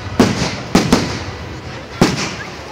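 Fireworks burst at the Himley bonfire-night display, four sharp cracking bangs spaced unevenly, each fading with a brief rumble, loud and fairly close.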